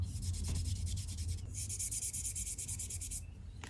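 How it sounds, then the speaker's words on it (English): A finger rubbing across dry pressed powder makeup in its pan, a soft close scratchy swishing in repeated quick strokes, faint and steady with no voices. "I'll swatch it and you guys can hear it."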